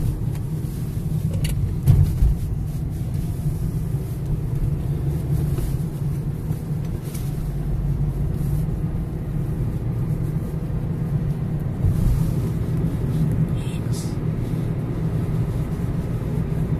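A car drives through St. Petersburg city traffic, heard from inside as a steady low engine and road rumble, with occasional brief clicks and louder bumps, no one talking.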